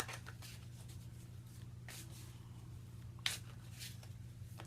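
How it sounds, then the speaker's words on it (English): Tarot cards being shuffled by hand in a quiet room, giving a few soft papery riffles and brushes over a low steady hum, with one sharper snap near the end. "Just going to shuffle the cards."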